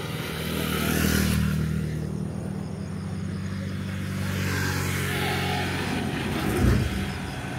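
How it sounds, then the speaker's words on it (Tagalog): Motorcycles and other road traffic pass close by on a rural road near pineapple plantations and grassy fields below Mt. Matutum, a steady engine drone with rising and falling passes and a brief louder rev near the end. "Tabi-tabi tayo yung mga motor."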